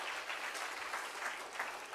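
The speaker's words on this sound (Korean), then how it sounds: "박수하겠습니다." A church congregation applauds during a Sunday evening worship service, a steady, even wash of many hands clapping together that sounds somewhat distant and soft, with no voices over it.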